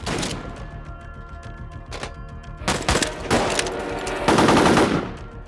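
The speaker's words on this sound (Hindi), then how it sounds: "Sir the Chinese have open arty fire and mortar, we need arty support immediately sir." Battlefield barrage in a Hindi war film set against Chinese forces: dense bursts of gunfire and heavy thudding blasts, loud and close, building to a final sustained roar, with no voices.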